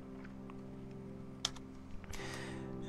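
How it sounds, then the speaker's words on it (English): Keys tapped on a computer keyboard while entering a matrix in Mathcad, a few sparse clicks with one sharper keystroke, close and fairly quiet over a steady background hum. "you just want to type in left bracket, which is usually next to the P on the keyboard"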